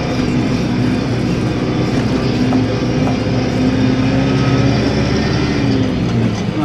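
Chinese Aupax 5140 tractor with a soft front axle driving along a rough road at about 20 km/h, giving a steady, loud, continuous engine drone and rumble with rattling, close and constant throughout.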